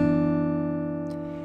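Fingerstyle guitar chord from a song, three strings plucked together and left ringing as a single sustained, fairly quiet chord with no voice.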